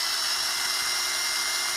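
A power drill fitted with a Forstner bit bores into the wood of a cigar box guitar build, giving a steady, close, high-pitched whine with no break.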